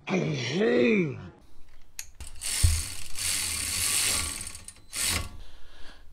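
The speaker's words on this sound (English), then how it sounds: "you want to start both bolts before you tighten up anything. Then you bring both bolts home." A ratchet wrench tightens the caliper bracket bolts on a Chevy Cruze front brake job, giving short clicking bursts and hissy mechanical rasps after a brief voice at the start, close and moderately loud.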